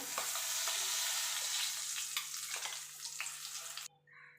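Ground lentil paste is stirred in a kadai over low gas heat, making a steady close scraping and sizzling wash that runs continuously and then cuts off abruptly near the end.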